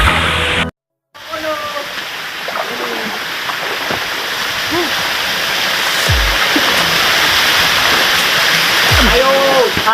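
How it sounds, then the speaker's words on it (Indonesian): Tabur waterfall at Batulicin in Borneo roars as a steady, close, loud rush of falling water, broken by a brief dropout near the start, with occasional voices and small thumps over the constant spray. "akhirnya mblo sampai juga di air terjun Tabur di Batulicin"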